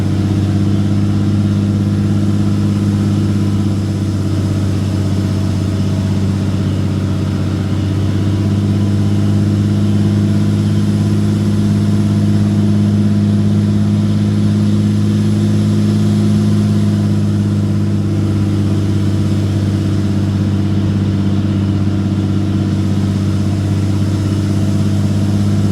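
Truck engine towing 7,500 lb up a 16% grade, a loud, steady low drone with a constant hum and faint rise in pitch near the middle, sustained throughout with no talking.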